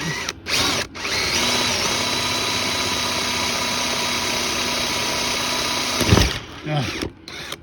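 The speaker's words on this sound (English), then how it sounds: "Can you see I'm drilling backwards?" A power drill runs backwards on a screw head, whirring steadily for several seconds, with brief bursts at the start and a clattering stop near the end.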